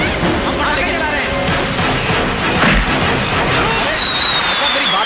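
Firecrackers set off in the middle of a street at night, a dense run of sharp cracking bursts with a high whistling streak near the end, loud and close over a noisy crowd.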